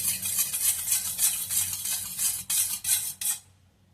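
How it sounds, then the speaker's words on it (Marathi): Oil being whisked into cake batter in a bowl makes rapid rhythmic scraping and clinking strokes, close and brisk, stopping abruptly at the end. "अर्धी वाटी तेल घेतले आणि हे दोन्ही एकसारखं चांगलं एक सेकंदासाठी फेटून घेऊया"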